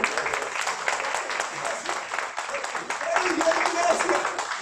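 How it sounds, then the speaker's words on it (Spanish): A church congregation claps in praise, a dense, steady patter of many hands filling the room, with voices and shouts mixed in throughout. "Un aplauso al Señor"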